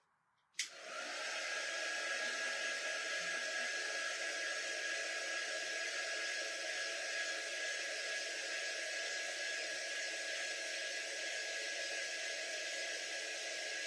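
A hair dryer switches on with a click and blows steadily, drying a mason jar craft decorated with strawberries, a constant close whooshing whine that holds unchanged for over ten seconds.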